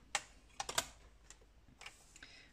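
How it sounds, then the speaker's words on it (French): A paper trimmer cuts diagonally through a paper card, heard as a few short crisp clicks and slicing scrapes, close and quiet, with no talking. "moi je préfère au massicot, donc de ce point de pliage à l'autre point en bas, on va venir couper en diagonale"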